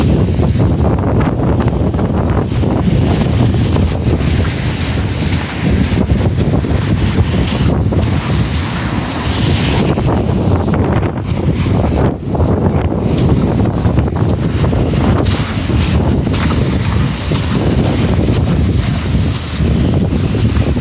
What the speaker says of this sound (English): You also see it's somewhat windy today.